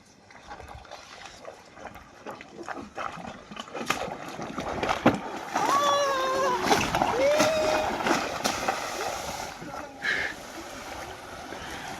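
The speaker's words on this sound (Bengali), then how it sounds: "কিভাবে নৌকা নেমে গেল জলের মধ্যে, নদীর মধ্যিখানে চলে যাচ্ছে" A wooden fishing boat slides down into a river, with splashing and sloshing water and scraping knocks from the hull, while people call out and talk over the commotion.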